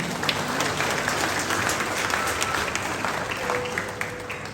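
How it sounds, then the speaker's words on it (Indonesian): A crowd of guests at a wedding reception bursts into sustained applause, thick continuous clapping that fills the hall at an even level, with faint background hum underneath. "Beri tepukan yang gemuruh."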